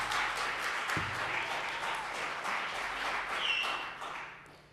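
An audience at a public meeting applauds in a dense, continuous patter that stays fairly even before tapering off at the end, with a faint voice underneath.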